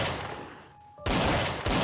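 Gunshots from a handgun: a brief loud blast, a short quieter gap, then two sharp, powerful reports in quick succession, close and booming.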